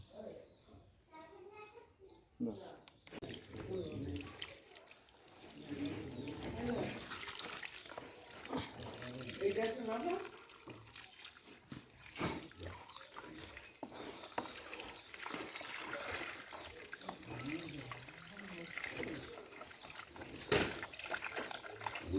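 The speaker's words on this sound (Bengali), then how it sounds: "এবার জল দিয়ে ভিজিয়ে রেখে দেবো" Water poured into tubs filled with soil and fertilizer for planting lotus on a rooftop garden, a continuous splashing trickle, close by, with a person talking over it.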